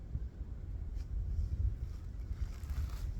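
Steady breeze rustles through the woods during a deer hunt in New York, a low continuous rush with soft gusts and no talking.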